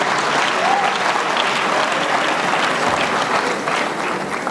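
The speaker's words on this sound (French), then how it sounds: "Applaudissez pour eux, s'il vous plaît." Loud, dense applause from a crowd at an academic graduation ceremony, a continuous wash of clapping that holds steady and eases slightly near the end.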